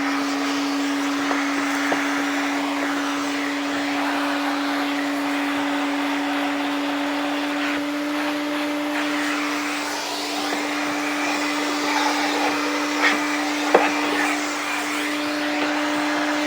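A household vacuum cleaner runs steadily throughout, a loud continuous motor drone with a strong sustained hum and airy hiss, close by with no talking.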